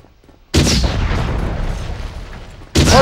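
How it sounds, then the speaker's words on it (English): Heavy gunfire and explosions from the Red Faction video game erupt suddenly after a brief quiet: a loud, sustained blast of booming noise that slowly fades, then another abrupt burst at the end. "Hitting them directly with some explosions."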